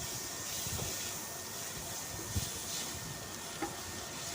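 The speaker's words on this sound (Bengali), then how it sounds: "তারপর হালকা পানি দিয়ে এটাকে কষাবো।" Dried loitta fish being stir-fried in a pan with tomato, chili powder, turmeric and cumin, a soft sizzle with occasional spoon scrapes and clinks, faint and close, without talk.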